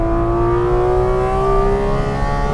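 Porsche Cayman GT4 RS with Manthey Racing Kit, engine howling loud and steady at high revs on a race track, pitch climbing slowly under throttle with no talk.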